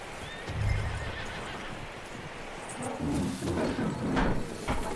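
A horse whinnies loudly in Red Dead Redemption 2 over clip-clopping hooves and rumbling ambient noise, with several snorts and stamps toward the end.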